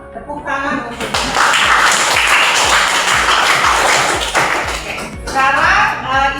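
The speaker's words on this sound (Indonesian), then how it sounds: "tepuk tangan untuk" A classroom bursts into applause after a math lesson. The clapping is loud, dense and sustained for about four seconds, and a voice speaks briefly before and after it.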